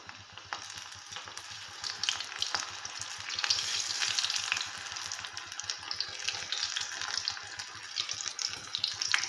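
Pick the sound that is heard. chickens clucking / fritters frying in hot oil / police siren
fritters frying in hot oil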